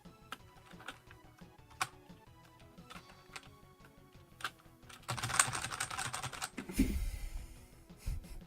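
Keys clatter on a computer keyboard in irregular close taps, with a denser burst of fast typing near the end, no voices present.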